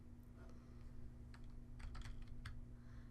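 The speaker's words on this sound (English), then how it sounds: "by typing Diathorex" Typing on a computer keyboard, a few quick clusters of light clicks as a search term is entered, fairly quiet over a steady low electrical hum, with no talking.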